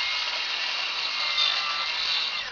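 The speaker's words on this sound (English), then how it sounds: "this sheet that he's cutting right now is too long" A carpenter saws through a roof sheet to trim its end, a steady rasping cut heard alone for a couple of seconds at moderate loudness.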